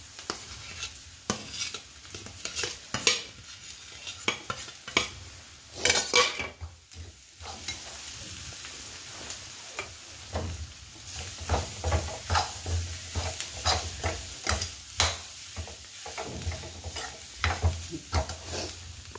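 Potatoes tipped into a hot spiced pan and stirred for a breakfast potato masala, a low sizzle beneath frequent irregular clanks and scrapes of a metal spoon on the pan, close and unaccompanied by talk.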